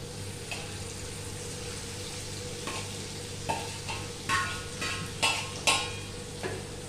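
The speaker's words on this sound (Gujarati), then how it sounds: "આમાં આપણે આપણા કાંદા ટમેટા નાખી દઈએ" Onions and tomatoes fry in butter for masala kanda, a steady low sizzle with intermittent spoon scrapes and stirring strokes growing busier toward the end, close up.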